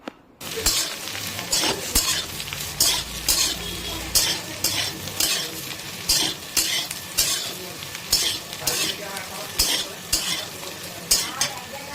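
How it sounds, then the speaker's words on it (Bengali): Chopped onion going into potatoes frying in a pan for a small-fish curry with onion and potato, stirred with a utensil in a steady rhythm of scraping strokes over a constant soft sizzle, close and clear. "এই সময় এটা আমি দিয়ে দিচ্ছি কেটে রাখা পেঁয়াজ"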